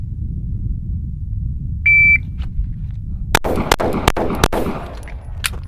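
Springfield Hellcat pistol fired at targets outdoors: four sharp, loud shots in quick succession after a brief electronic beep, over steady low wind rumble.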